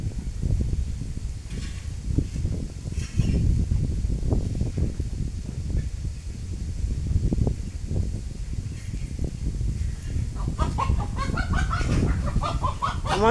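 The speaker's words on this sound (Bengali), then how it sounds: "এই মুরগিটাকে, এ মুরগি আরেকবার যা।" A hen clucking indoors in a house, with intermittent low clucks and rustling nearby, then a brief burst of higher clucking toward the end.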